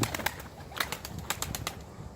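A flying-breed play pigeon coos and flaps its wings in short bursts close by, the wingbeats coming as sharp repeated flutters.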